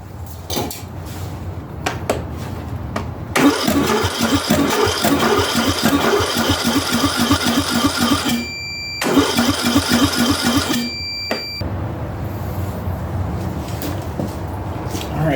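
An Ariens/Husqvarna garden tractor engine cranks over repeatedly with a fast, rhythmic churning that never catches. It comes in two long bursts separated by brief pauses, loud and close, with no talking.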